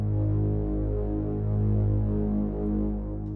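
Omnisphere synth patch run through delay and distortion effects, a loud sustained low droning tone with dense buzzing harmonics and a slow throbbing swell, heard alone without any voices.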